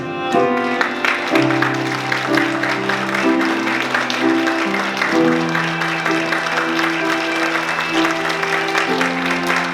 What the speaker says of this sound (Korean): 등장할 때보다 더욱더 큰 박수로 축복해 주시면 대단히 감사하겠습니다